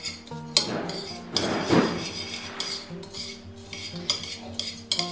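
Melted butter mixed into crushed biscuits in a bowl, heard as irregular close clinks and scrapes of a utensil against the bowl with soft mushy stirring between them.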